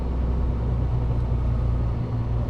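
HGV truck engine running under load with its gearbox in manual mode, a steady close low rumble and drone throughout, with a slight dip near the end that may mark a gear change.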